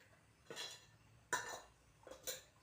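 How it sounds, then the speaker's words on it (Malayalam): A metal lid set down on a cooking pot of heating oil makes a few soft, short clinks and clanks, the clearest one in the middle, quiet against a near-silent background. "എന്നിട്ട് നമ്മൾ മൂടി വെക്കുക."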